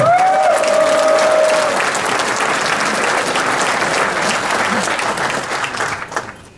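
A hall audience at a political meeting in Bielsko-Biała applauds loudly and steadily, with a brief whistle-like tone near the start, before the clapping fades away.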